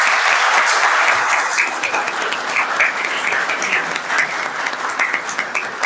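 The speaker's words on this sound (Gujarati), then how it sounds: "એના માટે તાળીઓ થઈ જાય" Sustained applause from an audience at a National Youth Day celebration honoring Swami Vivekananda's birth anniversary, a dense, steady wash of clapping that stays loud and even for the whole stretch.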